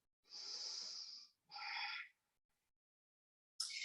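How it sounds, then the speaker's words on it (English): A deep yoga breath taken in a quiet room: a long airy inhale followed by a shorter exhale, close and soft, then another breath starting. "Take a full big breath."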